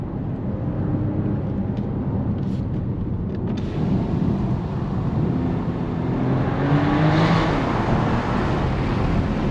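2024 BMW 550e xDrive plug-in hybrid with a B58 engine and ZF 8-speed gearbox in sport mode, accelerating at high speed on the Autobahn; a steady, loud engine drone with heavy road and wind rush throughout.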